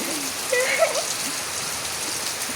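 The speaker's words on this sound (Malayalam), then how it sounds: "മഴ കാറ്റൊക്കെ വീശിട്ട് ഇപ്പോൾ നല്ല തണുത്ത കാറ്റ്." Steady rain falls with a soft, even hiss, carrying a faint brief tonal sound partway through.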